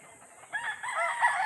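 Chickens on a farm of nearly a thousand birds in Malbog, one nearby hen or rooster calling in a short rising cluck-crow, fairly clear against a quiet background.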